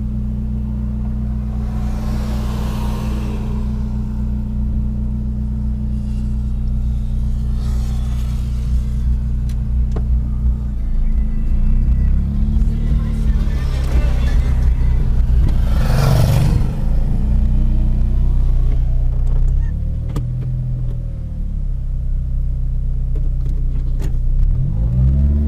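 A Chevrolet Corsa Classic 1.0 VHC running on ethanol, with an air filter and sport exhaust, accelerates in first gear: a loud, steady low engine drone with rising revs and a few rumbling swells, heard from inside the car.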